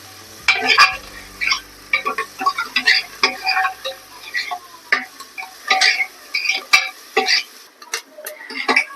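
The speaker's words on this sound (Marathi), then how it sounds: "कांदा चांगला भाजून घेऊया" Chopped onion frying in a pan while a spatula stirs it: close, rhythmic scraping strokes over a soft sizzle, repeating roughly every half second.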